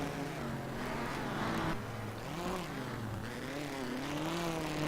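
A rallycross race car rounds a hairpin in a NASA RallyCross junior race, its engine revving up and down in wavering pitch as it brakes and accelerates, loud and close throughout.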